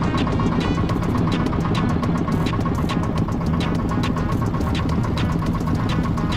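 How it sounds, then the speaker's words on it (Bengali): A motor boat engine runs steadily as the boat pulls away from the shore, a loud, close, throbbing drone with a constant rhythmic pulse and no talking. "তো এই দেখো আমাদের নৌকা কিন্তু ছেড়ে দিল।"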